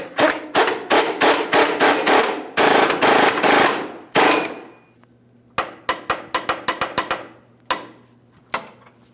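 Sharp rapid ratcheting clicks and bursts from tightening control arm mounting bolts on a 2007-2014 GMC Sierra 2500 HD, loud and close, in several runs with short pauses between.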